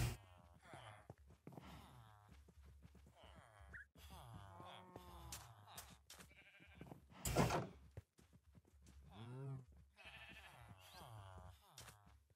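Sheep bleat now and then in a video game, over a mechanical door slide and other game effects. Someone talks over much of it.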